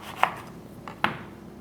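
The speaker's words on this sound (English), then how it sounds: "next I'm going to cut my lime in half" A knife cuts a lime in half on a board, two sharp close chops about a second apart in a quiet kitchen.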